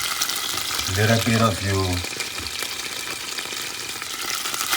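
Sofrito sizzles and fries in a pot with beans for Puerto Rican stewed red beans, a steady close hiss with a brief stirring noise and a short spoken remark early on.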